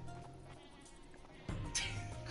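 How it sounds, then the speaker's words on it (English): A sheep weapon bleats in the video game Worms: Battlegrounds, a short, quiet bleat rising near the end over faint game ambience. "I should just threw the sheep down there"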